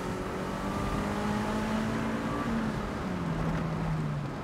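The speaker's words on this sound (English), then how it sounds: "Oh, the engine never gets old." An MGF VVC sports car engine drones loudly while driving on a country B road, its pitch sweeping gently up and then easing down under heavy road and wind noise, with no talk.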